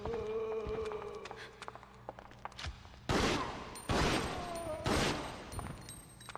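Bursts of gunfire aimed at zombies in the video game Resident Evil Outbreak, with a few close, loud volleys of rapid shots breaking in over quieter game noise and tones.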